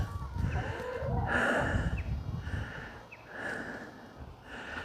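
Large chickens in a backyard garden cluck and grumble close by, a steady stream of low throaty calls with a few sharper squawks recurring every second or so, heard alone without talk.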